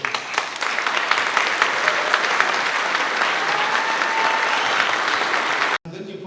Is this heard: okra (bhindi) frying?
no